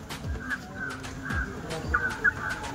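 A chicken clucks close by in a rural setting, with several short, throaty clucks and squawks coming in irregular bursts over low background noise.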